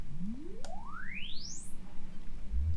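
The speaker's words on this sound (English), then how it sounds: "If a sweep is heard" A single pure sine tone sweeps smoothly upward from low to very high pitch over about two seconds, clean and moderately quiet, as a reverberation time measurement signal.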